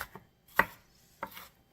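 A chef's knife chopping onion finely on a cutting board for stuffed mushrooms, three crisp separate chops close up, each a sharp thud, alone with no talking.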